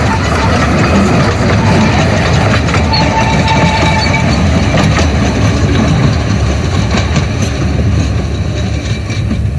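Otter, a steam locomotive built in 2019 by Scarborough North Bay Railway Engineering, works up steep gradients on the Groudle Glen Railway on the Isle of Man, a loud, continuous close-up chuffing and rumbling with faint clatter of the wheels.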